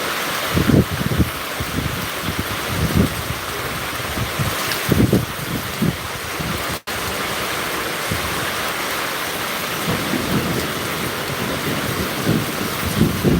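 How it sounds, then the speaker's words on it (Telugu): Heavy rain pours down in a steady, dense roar, with occasional low rumbling thunder swells beneath it and no voices, during a thunderstorm in Zaheerabad. "ఉరుములు మెరుపులతో కూడిన వర్షం అయితే కురుస్తుంది"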